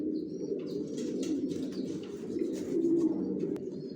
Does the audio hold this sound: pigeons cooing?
yes